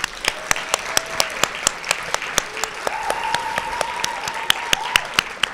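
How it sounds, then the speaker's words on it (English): An indoor audience at a graduate and professional student research forum awards ceremony claps steadily. Sharp individual claps stand out over the crowd, and a sustained musical tone runs underneath. "So please join me in a round of applause for Jen."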